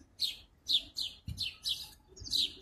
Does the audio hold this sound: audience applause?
no